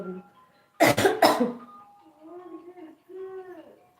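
Two sharp coughs in quick succession, close and loud, followed by a person speaking softly.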